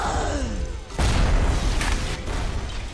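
Gunfire in the video game BioShock: one loud, close blast hits suddenly and leaves a dense, roaring rumble that lasts to the end, with a faint voice under it.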